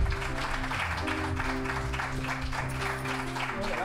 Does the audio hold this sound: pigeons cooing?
no